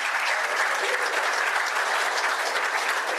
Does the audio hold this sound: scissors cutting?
no